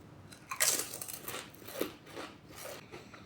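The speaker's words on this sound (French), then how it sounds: "on a une belle chips qui a l'air bien croquante." Someone bites into a crunchy Brets aligot-flavoured potato chip, giving one sharp crisp crunch followed by a few softer chewing crunches, close up and alone.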